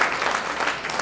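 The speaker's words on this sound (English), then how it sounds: "Round of applause." Audience applause at a live stand-up comedy show, a brief burst of dense, even clapping from a crowd, moderately loud, with no voices over it.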